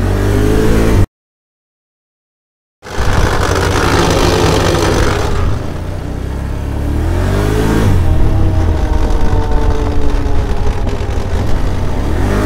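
A car engine revs hard under heavy throttle, its pitch rising and falling in loud surges, with a brief dropout early on, during a fault where engine braking fails.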